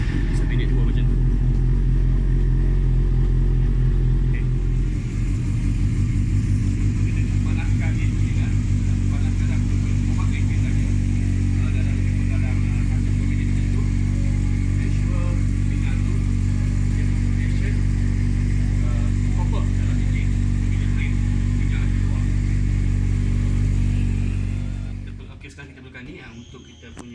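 A Yamaha XJ6 motorcycle engine idles steadily to warm up before an oil and filter change, a continuous close low rumble that holds for about twenty-five seconds, then cuts off.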